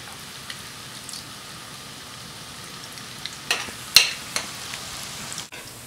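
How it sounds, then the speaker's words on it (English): Fritters fry in hot oil with a steady, close sizzle, joined by a few sharp clicks and pops near the end. "fry them up like so"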